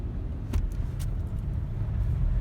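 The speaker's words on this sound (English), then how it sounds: "So far, it's cutting through this slush out here really nice." A 2020 Kia Telluride S AWD in snow mode drives through snow slush, giving a steady low road rumble with a couple of brief splashy hisses from the tires.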